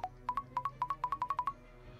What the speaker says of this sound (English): Doorbell was ringing